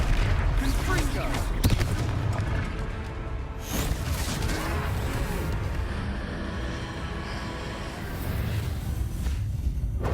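In the video game Hogwarts Legacy, a Confringo blasting spell explodes during a troll fight: loud, repeated booming blasts and rumbling impacts fill the scene, with spoken voices heard over the din.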